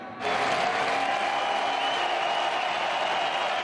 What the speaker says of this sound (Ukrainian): Сльози Дніпропетровського нападника підтримують на трибунах аплодисментами